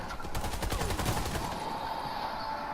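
Semi-automatic rifle fire in the shooter Warface: a rapid string of close, sharp shots in an even rhythm for over a second, then a ringing decay.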